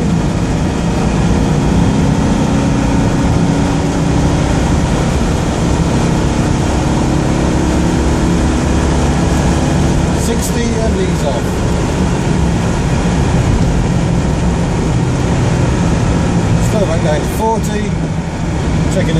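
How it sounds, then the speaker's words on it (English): An air-cooled Citroen Dyane engine pulls from 40 to 60 in top gear, a loud, steady drone heard from inside the car, with a voice speaking intermittently over it. "to accelerate from 40 to 60 in top. There's 40. Gently feed in the power."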